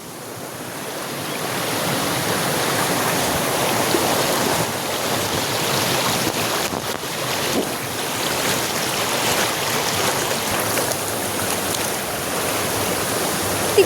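Spring water flowing beside a farm path, a continuous broad rushing wash that stays steady and fairly loud throughout, with no voices.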